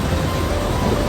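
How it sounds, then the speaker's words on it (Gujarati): Rain pours down steadily in a brief, loud, continuous hiss of falling water with a low rumbling undertone, no voices present. "વરસાદ ચાલુ થઈ ગયો."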